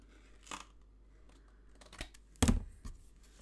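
Scissors cut through old patterned paper for a 6x6 mini album, giving a few sharp, close snips and crisp paper rustles spaced irregularly, the loudest cut near the end, with quiet between them and no talking.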